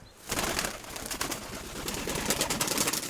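Pigeons cooing in a loft at a first fledgling outing, a steady dense flutter of soft calls and rustling close by, with no talk.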